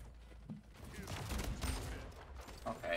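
Shotgun blasts and rapid gunfire in the video game Splitgate, a dense, continuous barrage of shots layered over game sounds with a voice talking faintly underneath.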